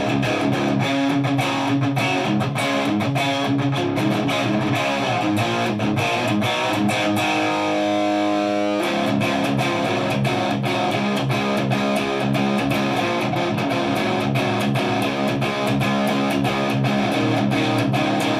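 An electric guitar with humbucker pickups plays through heavy distortion, loud, dense chugging riffs with a brief sustained chord partway through, continuing throughout with no talk.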